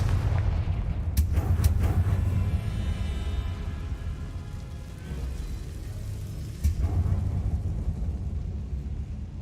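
Confringo blasting spells go off in Hogwarts Legacy as a low rumbling barrage, with sharp cracks early on and another heavy thump later over a continuous deep roar.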